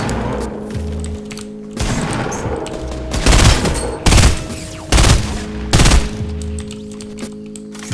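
Game gunfire from a firefight inside a garage: repeated loud bursts of automatic fire, four heavy volleys in close succession after quieter distant shots, with a steady hum underneath and no talk.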